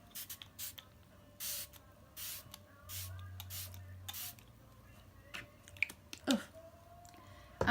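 Smashbox Photo Finish Primer Water misted from its spray nozzle in a series of short, close, hissing bursts separated by quiet gaps, with faint handling clicks and rustles between sprays.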